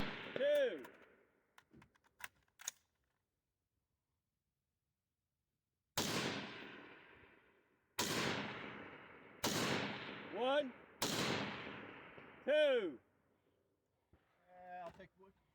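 Rifle gunshots fired at a range ring out as loud, sharp cracks, one early and then four more spaced a second or two apart, each trailing a brief echo, with some quiet movement between.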